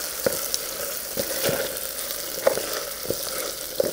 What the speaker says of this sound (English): I can hear the vanilla and the butter sizzling